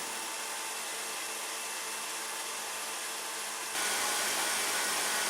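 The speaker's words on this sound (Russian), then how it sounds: "Включаем теперь миксер на полную мощность и взбиваем еще минутки 2-3." An electric mixer whips a stabilised cream at full power, giving a steady, close, high whirring drone that steps up slightly louder partway through, with no talking.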